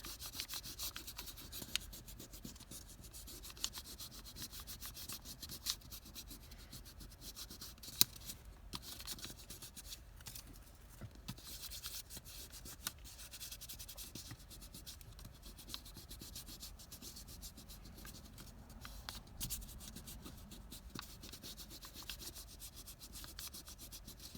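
Paper embossed by hand, a soft continuous rubbing and scraping with small scattered clicks and taps, faint and close, with no talking.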